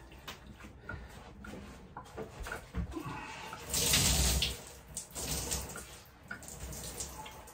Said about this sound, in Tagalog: Dito kasi naitapon yung tubig sa lababo. Eh, napupuno nga pa agad yung lababo.